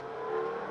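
A Mitsubishi Galant VR4 engine with a wideband O2 setup, cold and slow to warm up, revs under throttle in a brief steady tonal drone, close and moderately loud.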